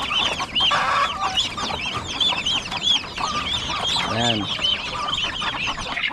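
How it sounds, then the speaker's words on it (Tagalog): Chickens on a backyard farm cluck and squawk close by in busy overlapping calls, with fowl chatter continuing throughout. Someone speaks a couple of brief words. "At may manok pa dito."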